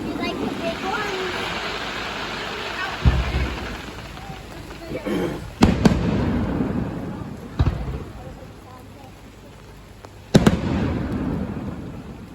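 Fireworks burst at Heysham in the rain, several sharp bangs at irregular intervals with rumbling tails, heard from a distance while people chat nearby.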